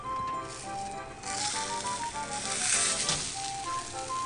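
Japanese rolled omelette (tamagoyaki) cooking in a frying pan, giving a steady, close sizzle that swells slightly midway, with faint tonal sounds in the background.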